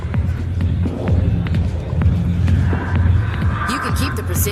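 A crowded bar in the Mass Effect video game fills the scene with a dense, steady murmur of many voices, scattered footsteps and low thumping music underneath, staying at an even, busy level throughout.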